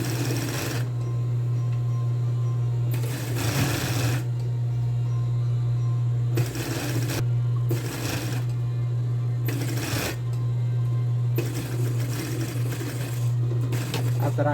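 Sewing machine stitching a dress facing along the pressed fold line, running in several separate bursts of rapid mechanical whirring over a steady motor hum, with short pauses in between.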